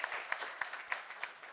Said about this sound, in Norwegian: vi får klappe litt for deg da